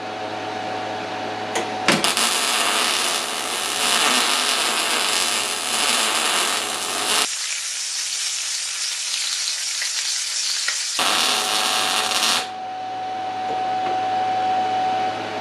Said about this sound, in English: That's a pretty weld right there.